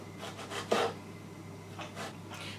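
An Edge of Belgravia knife finely slices tomato or onion on a cutting board, making several short, close cutting strokes, one crisper and louder than the rest, with quiet gaps and no talking.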